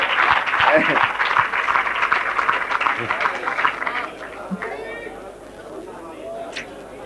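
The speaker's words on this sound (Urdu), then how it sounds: "آپ سے درخواست کرتا ہوں کہ تالیوں کے ساتھ ان کا استقبال" Audience at a 1987 Delhi mushaira poetry gathering, heard on an old archival recording, clapping to welcome a poet. Applause is strongest early on and fades after about four seconds into murmuring and chatter.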